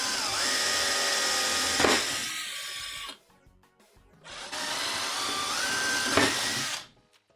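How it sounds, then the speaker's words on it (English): Power drill boring holes into a wooden board while a CRT stand is built, two long loud bursts of whirring drilling separated by a short pause, each ending as the bit spins down. "So go ahead and start drilling some holes."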